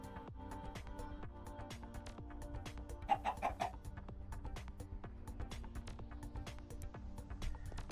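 Chickens cluck repeatedly in Minecraft's FTB Interactions modpack, soft irregular clucks over a steady background hum with no talking.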